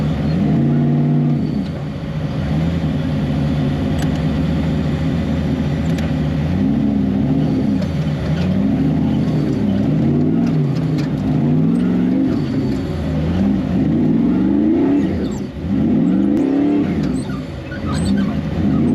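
An off-road race car engine at the King of the Hammers race revs in repeated rising and falling surges, loud and close, over a steady rumble of engine noise with no voices.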